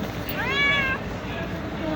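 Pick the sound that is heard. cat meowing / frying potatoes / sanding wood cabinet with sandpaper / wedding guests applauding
cat meowing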